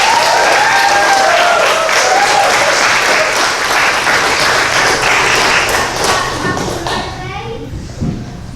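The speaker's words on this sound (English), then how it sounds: "So can we give them a round of applause?" Audience applause at a youth talent show, dense steady clapping that fills the room for about seven seconds, then thins and fades toward the end with a thump near the close.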